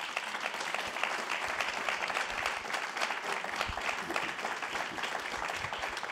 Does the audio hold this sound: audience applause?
yes